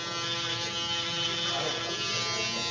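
An inexpensive electric hair clipper runs continuously nearby, a steady, even buzzing hum with no break and no talking.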